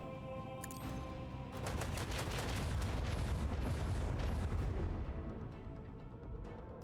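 Heavy macro cannon fire in the video game Warhammer 40K Rogue Trader, a dense rolling barrage of booming blasts that swells loud and continuous for several seconds before fading, with no talking.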